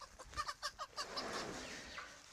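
Several quick, rhythmic clucks from chickens nearby, then a soft rustling outdoor background as the calls fade.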